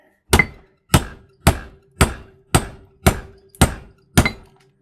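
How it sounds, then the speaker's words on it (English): Eight evenly spaced, sharp hammer blows strike a copper motor being broken open, each a loud metallic thunk with a short ringing tail, about half a second apart and close up. "Hammer's doing good."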